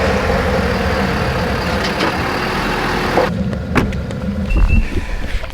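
A lifted 2021 Ford F-250 Lariat diesel truck engine runs at a steady close idle, a loud continuous rumble that shifts in tone partway through with a few knocks and clicks, with no speech.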